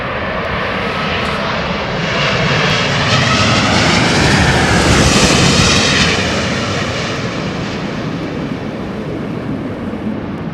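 A jet airliner passes at London Heathrow Airport, its loud engine roar swelling to a peak with a swishing, whooshing vortex trail, then slowly fading as it moves away.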